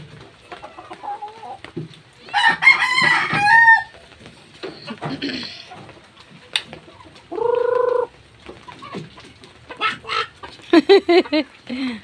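Backyard hens cluck and squawk close by in short bursts, with a rooster crowing loudly midway; scattered rustling and movement fill the gaps.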